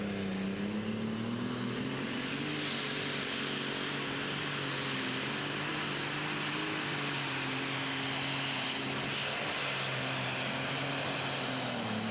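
A light super stock pulling tractor's engine roars loudly and continuously at high revs, a heavy mechanical howl with a slowly shifting pitch and no pauses, at a tractor pull.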